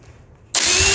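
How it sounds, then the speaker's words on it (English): A power drill with a 1/16 inch bit pre-drills screw holes for a door strike plate, starting abruptly after a quiet moment and running loud and steady with a high whine. "I've got a 16th inch drill bit here. I'm gonna center it in the hole and pre-drill for the screws."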